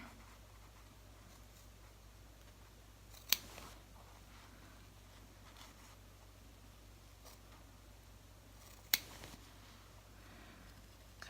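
Scissors snip thread on an in-the-hoop embroidery banner: two sharp, isolated cuts several seconds apart, close and distinct against a steady low machine hum.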